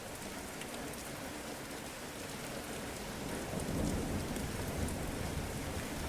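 Steady, heavy rain patters on surfaces in a constant wash, while a low rumble of thunder swells midway and lingers under the downpour.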